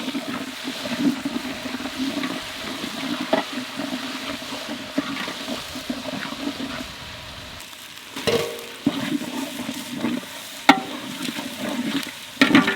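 Ginger garlic paste sizzles and spits in hot oil in a kadai for quail biryani, a continuous loud frying hiss with scattered stirring scrapes and sharper clacks toward the end, no voices.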